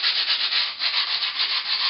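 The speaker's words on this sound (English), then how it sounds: "You take a piece of the grip tape that you cut off, and you just sand it down." Scrap of grip tape rubbed hard against skateboard grip tape, a steady gritty sanding scrape in quick back-and-forth strokes, close and loud with no talk.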